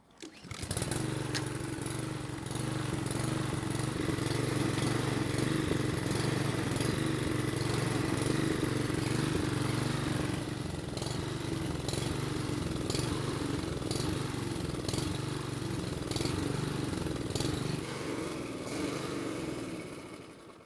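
A Toro lawn mower with a broken blade cable starts with a quick burst and settles into a loud, continuous small-engine drone, steady and close, with occasional knocks and rattles over the running engine.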